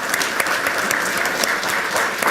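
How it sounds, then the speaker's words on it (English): At a city council meeting, the audience gives parents a short burst of applause, many hands clapping densely and steadily at moderate loudness. "let's give a big round of applause to the parents with all those cameras back there"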